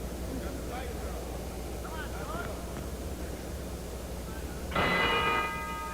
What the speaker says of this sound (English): Bell ends round two